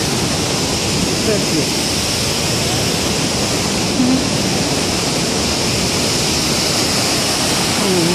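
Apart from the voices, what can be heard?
river water flowing at horizontal-wheel grain mill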